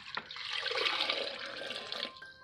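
Water is poured into an old blender holding a banana peel, making a close, steady splashing and gushing for about two seconds before it trails off.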